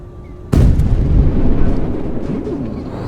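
T-64K tank cannon shot striking ERA armour in a Roblox tank game, a sudden loud boom after a brief quiet moment, trailing into a rumbling decay.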